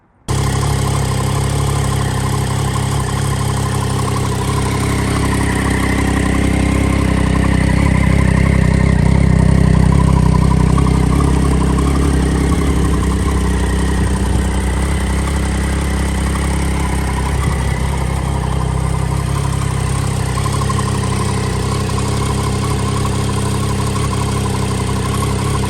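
The rebuilt engine of a crashed Triumph motorcycle runs at a steady idle, a loud, constant close-up rumble that swells slightly partway through and continues alone without voices.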